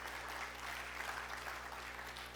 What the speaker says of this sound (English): Where else do you get clapped for being alive?